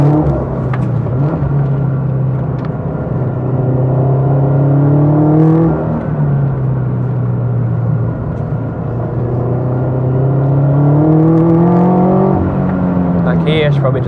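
A turbocharged Toyota 86 making about 350hp pulls hard on a race track, with its engine note rising in long sweeps, dropping at each upshift and climbing again, loud and close from inside the car.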